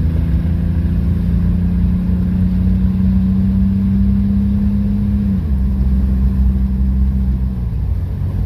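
A 1994 GMC Jimmy 4x4 engine drones steadily under load as it accelerates on the road, its pitch holding then dropping abruptly around a gear change, with another drop near the end, loud and close over continuous road rumble.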